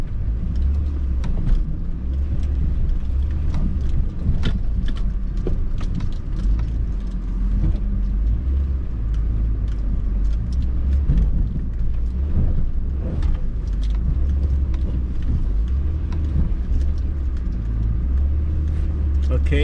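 Honda Ridgeline pickup rumbling steadily over rough off-road ground, low engine drone and jolts continuing throughout with occasional knocks, voices talking faintly over it.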